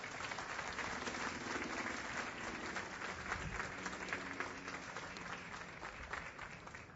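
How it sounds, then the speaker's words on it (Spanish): A church congregation applauds the Lord during a sermon, a steady crowd of clapping hands over a faint low hum, sustained throughout at moderate distance. "Dele un aplauso al Señor por eso."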